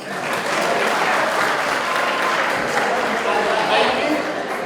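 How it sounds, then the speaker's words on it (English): An audience at a university youth convention claps in a sustained, even burst of applause that swells quickly and holds steady, with some talk mixed in. "I think you should clap for that."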